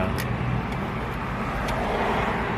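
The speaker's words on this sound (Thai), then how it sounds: "บิดกุญแจ ครับไฟรุ่นแจดับสตาร์ทรถครับนี่ครับรถติดแล้วครับ" Car engine running after a key start with the original key, a close, even low rumble holding steady throughout with faint light ticks on top.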